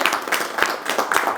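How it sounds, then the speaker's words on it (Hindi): An audience at an evening poetry gathering claps steadily in a short, lively burst of applause welcoming a speaker. "बड़े ही तालियों के साथ।"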